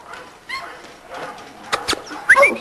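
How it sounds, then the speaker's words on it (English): A small dog gives a few short, sharp yips and whines, close and fairly loud, with brief pauses between them. "this is the little dog we call Sweet Pea."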